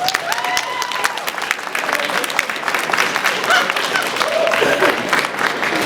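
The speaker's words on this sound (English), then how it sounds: "give them a big round of applause" Audience applause fills a room at a comic convention panel, a dense steady wash of many hands clapping with scattered cheers, loud and sustained throughout.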